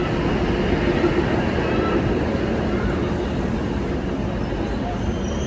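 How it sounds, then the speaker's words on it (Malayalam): A Baramulla–Sangaldan DEMU train pulls into a Kashmir station, a steady loud rumble and rolling rail noise throughout, with a voice talking over it. "ഇവിടത്തേക്ക് ഒരു ട്രെയിൻ വരികയാണ്, ബരാമുള്ള സംഗൽഡാൻ വണ്ടി"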